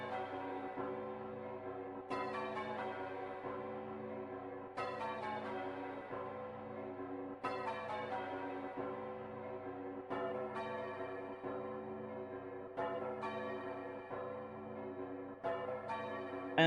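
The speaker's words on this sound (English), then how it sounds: "like the little bell sounds here, ding dong, is what you're gonna be creating" Bell tones ring out in a song from the Drakengard ending, struck in repeating phrases every couple of seconds with long sustained, decaying harmonics layered over a steady musical backdrop.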